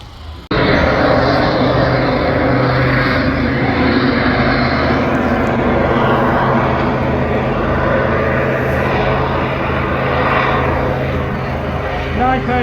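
A vintage propeller fighter plane flies past at an airshow, its loud sustained engine roar filling the scene with a rising and falling drone.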